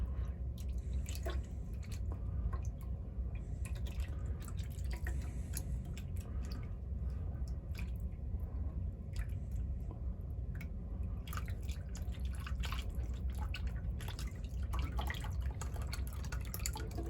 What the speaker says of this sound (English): So I'm just going to carefully pour that from the one container to the next.